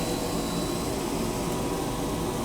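A coffee roaster's cooling cycle after a roast gives a loud, steady rush of air and water spray, a continuous broadband roar close by with no talk.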